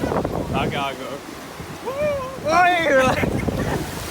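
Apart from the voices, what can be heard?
beach with waves and wind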